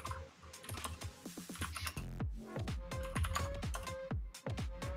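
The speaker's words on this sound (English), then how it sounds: "I'm typing carefully now instead of just," Rapid keystrokes clatter on a computer keyboard in a terminal-hacking session, a dense run of sharp clicks with short pauses, close and clear with no speech over them.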